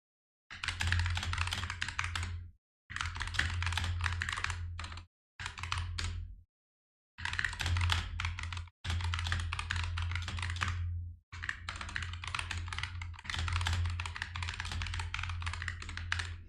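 Rapid typing on a computer keyboard during a gaming session, close and crisp, in bursts separated by short silent pauses.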